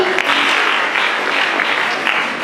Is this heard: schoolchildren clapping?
yes